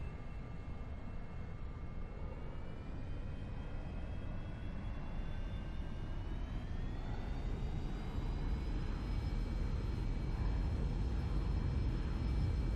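The engine of a Cirrus Vision SF50 jet in X-Plane 11 spools up for takeoff, a steady rushing roar with whining tones that climb gradually in pitch, heard alone and continuous.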